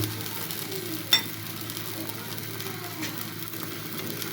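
Sesame chapati sizzles softly in a pan once the lid is lifted, a faint steady frying crackle with a brief clink of the lid near the start.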